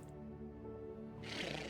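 A sheep in Vintage Story lets out one faint, drawn-out wavering bleat that ends in a brief breathy rustle, distant and heard alone.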